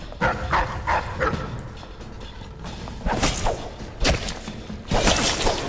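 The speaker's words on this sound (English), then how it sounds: "I mean, they're just barking, like what the hell?" Dogs bark in the kennels of the Dishonored video game, repeated loud barks in irregular bursts with whooshing game sounds mixed in, fairly close and building toward the end.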